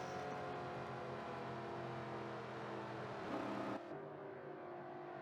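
GRL NASCAR stock cars at the Homestead, Florida 150 drone steadily along the track, engines easing off as the field slows, with a brief louder surge before the pitch drops.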